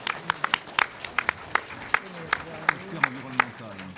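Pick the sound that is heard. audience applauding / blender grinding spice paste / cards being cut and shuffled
audience applauding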